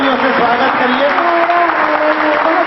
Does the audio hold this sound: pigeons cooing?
no